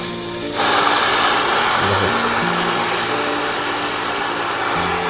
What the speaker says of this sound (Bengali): মেশিনে গ্যাস আছে, দেখে নেই যে গ্যাস বেরোচ্ছে।